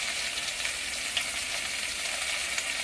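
Fish frying in a pan until reddish-brown gives a steady, close, even sizzle that crackles continuously throughout, with no voices.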